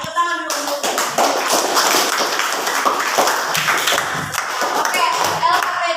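A primary school class claps their hands together in a loud, busy burst of close-up claps and taps, with children's voices mixed in throughout.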